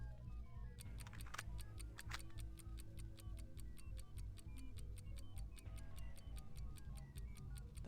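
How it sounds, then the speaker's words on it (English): A clock ticks in a fast, steady rhythm, several crisp ticks per second, close and prominent from about the first second onward over a constant low background hum, with no voices. "That's ticking away."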